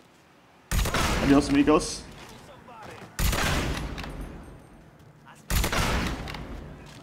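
Sniper rifle fire in the video game Mafia 3: three loud, sharp shots spaced a few seconds apart, each trailing off into echo, with someone speaking briefly between them.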